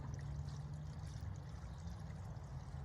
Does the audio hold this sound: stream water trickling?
yes